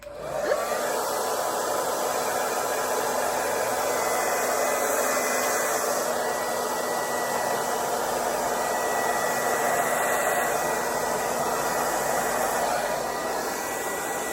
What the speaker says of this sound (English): you get your hair dryer and you blow everything straight back so that it won't do that natural growth